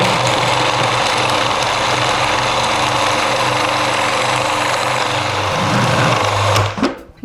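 A food processor blends pastry dough with ice, a loud, close, steady motor whir with gritty churning that holds for several seconds and then winds down abruptly.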